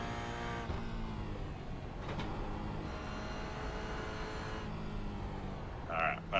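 Toyota GR86 race car on the Oschersleben circuit, engine note droning steadily with harmonic bands as it shifts down a gear, heard from on board under continuous talking.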